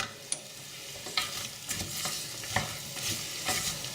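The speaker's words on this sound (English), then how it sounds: "We're going to stir." Onions fry in a pot for a curry gravy base and are stirred, producing a continuous close sizzle broken by several distinct spoon scrapes and knocks against the pan.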